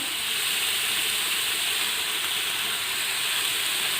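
Beef cutlet masala sautéing in a pan, a steady, close broadband sizzle and hiss running unbroken throughout with no talk.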